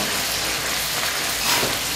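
Shrimp paste being stir-fried for a Lao coconut noodle sauce sizzles in a steady, close, dense hiss for two seconds, swelling slightly near the end, with no voices.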